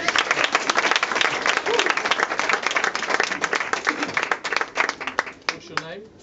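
A panel discussion audience claps steadily in a thick, close burst of applause that holds strong before thinning into scattered claps, with faint voices rising at the end.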